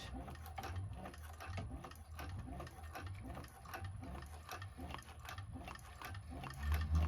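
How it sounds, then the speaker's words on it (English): A Brother 1341 cylinder arm sewing machine stitches clear vinyl for a bag in a continuous, rapid needle rhythm with mechanical ticking, fairly quiet and close, with no talk. "And sew across on both of them, and then I'm going to sew the seam down."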